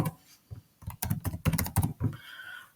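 Keys clatter on a computer keyboard as a surname is typed into an online database search, a close burst of quick irregular clicks lasting a couple of seconds with no talking.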